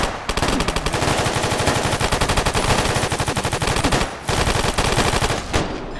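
Sustained machine gun fire in Fallout: New Vegas, a rapid, loud, evenly spaced stream of shots with two brief breaks, continuing almost without pause throughout.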